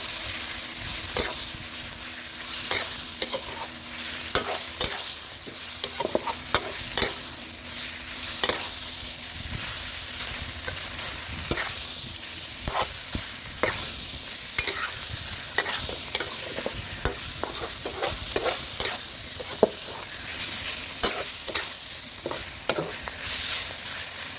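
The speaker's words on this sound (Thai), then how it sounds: "ผัดพริกแกงพอหอมแล้วก็ใส่เนื้อหมูลงไปผัดด้วยกันเลยนะครับ" Thin-sliced pork is stir-fried with curry paste in a pan, a steady low sizzle broken by frequent scraping strokes and clinks of the utensil against the pan.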